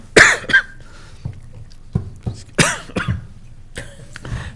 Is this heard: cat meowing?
no